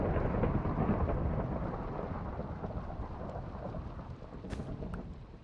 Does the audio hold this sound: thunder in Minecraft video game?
yes